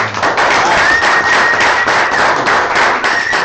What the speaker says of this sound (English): Everybody give a round of applause to Mr. Eric Lawhone